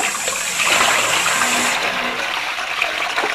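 Tap water gushing into a half-liter glass jar, a loud, close, steady rushing pour with bubbling that shifts slightly as the jar fills, no talk over it.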